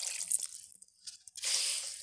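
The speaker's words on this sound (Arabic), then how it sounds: "نحط بقى ميه تكون دافيه يا جماعه" Warm water is poured into a bowl of homemade bread dough made with milk, giving two short wet splashing bursts separated by a brief pause, close and fairly quiet, with no talking.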